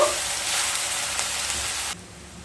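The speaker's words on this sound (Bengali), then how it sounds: "পেঁয়াজগুলোকে হালকা ব্রাউন কালার করে ভেজে নেব।" Two medium-sized onions frying in oil until light brown, a steady, close sizzle that hisses evenly and then drops off suddenly near the end, with no talking.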